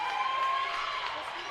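A volleyball team on the sideline cheers and shouts excitedly during a college match, Cedarville against Ursuline. The crowd noise stays steady and moderately loud through a short burst.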